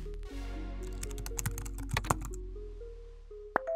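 Typing on a computer keyboard while composing a group chat message, a quick run of close key clacks with a few sharper taps and a louder final keystroke, with no voices.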